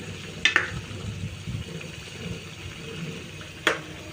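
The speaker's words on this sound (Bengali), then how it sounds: "এবং আরও একটু নেড়েচেড়ে কষিয়ে নেব" Masala for an egg, potato and lentil curry being stir-fried in a pan, a soft steady sizzle with a few sharp clinks of the spoon against the pan.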